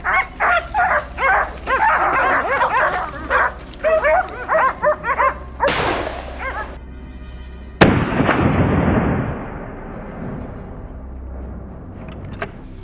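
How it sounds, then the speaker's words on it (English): Hunting dogs bark in a rapid series of close, loud yelps during a wild boar rush hunt, followed by two sharp gunshot blasts with long decaying echoes and a faint final crack. "The barking of the hunting dogs led me to another thick bush."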